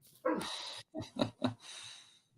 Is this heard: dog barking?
yes